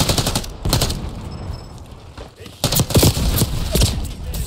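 Black Ops 6 multiplayer gunfire comes in loud, close rapid bursts separated by short pauses, with a heavier flurry in the second half.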